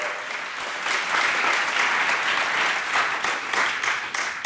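Conference workshop audience claps after a first-prize announcement, a loud sustained burst of many hands with uneven swells, continuing steadily to the end.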